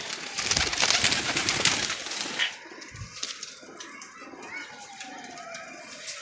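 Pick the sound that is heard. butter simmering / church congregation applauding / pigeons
pigeons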